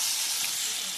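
Pota kaleji gravy sizzles loudly in a pan as water is added: a dense, continuous frying hiss with no pauses or voices.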